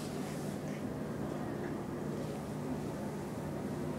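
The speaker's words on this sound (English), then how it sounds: "Just get another listen to that motor." Steady, close hum and drone of the motor of a ThyssenKrupp Northern roped hydraulic elevator at Mic Mac Mall in Dartmouth, Nova Scotia, running continuously at an even level with no voices.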